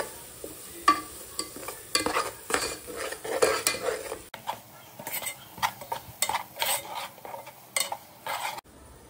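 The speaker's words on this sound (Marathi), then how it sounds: "तर चला मी याच्यात हळदी टाकते, थोडासा मसाला आणि मीठ. थोडं फ्राय करते." Turmeric, masala and salt fry in oil while a metal spoon stirs them around the pan, making a busy run of rhythmic scrapes and clinks over a light sizzle, heard close up.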